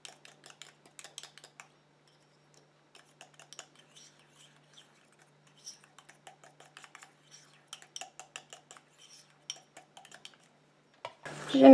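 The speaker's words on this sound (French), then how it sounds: "Il va se dissoudre en continuant à mélanger avec le reste des ingrédients." A small utensil stirs hyaluronic acid into homemade anti-aging night cream ingredients in a container, giving faint, irregular light scraping and clinking taps that end in a short louder clatter, with no talking.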